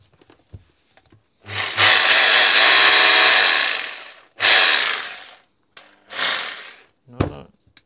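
A Nocord NHD 800 rotary hammer drill with a fault that stops it hammering whirs loudly in several bursts, a long run of about three seconds followed by shorter starts and stops, with only small clicks and handling noises between.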